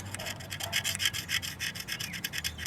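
An object scraped back and forth over a raised bump on the cylinder of a McCormick Deering M tractor engine gives a faint, quick rasping rub, repeated in short strokes close by.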